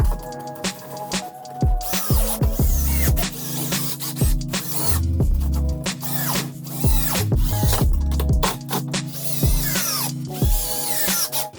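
A power screwdriver drives a run of screws, with repeated whining bursts and changing pitch as each screw seats. It sounds close and loud, with short pauses between screws.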